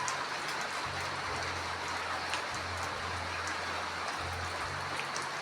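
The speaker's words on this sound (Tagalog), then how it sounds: "Maulan na linggo" Light rain falling steadily outside a small house on a rainy Sunday, a soft even hiss of drops throughout, with a low intermittent hum underneath and no talking.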